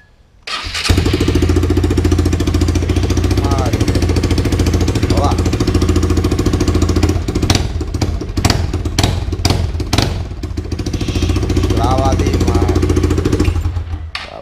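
A motorcycle fitted with a cheap aftermarket exhaust starts, then idles loud and close with a rough, chattering note, broken by several sharp throttle blips midway and a few more near the end.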